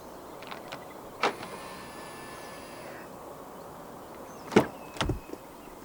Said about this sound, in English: And to unlock the car, just press the button on any of the front door handles again.